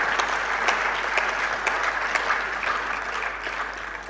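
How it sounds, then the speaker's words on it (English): Sustained audience applause fills a university lecture hall at a maritime studies annual lecture, dense steady clapping from a large crowd holding even for several seconds and easing slightly at the end. "Please, a round of applause for him."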